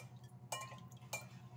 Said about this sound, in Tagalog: Magugas akong pinggan.